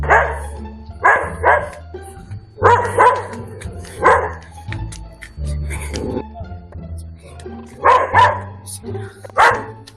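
A dog barks repeatedly in sharp bursts, close and loud, with short pauses between volleys and a few fainter yips mixed in.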